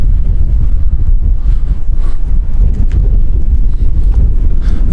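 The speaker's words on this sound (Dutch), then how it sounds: "deze wind is heftig." Strong wind buffets an outdoor microphone on a walk through town, producing a loud, continuous low rumble with gusty surges throughout and no other clear sounds.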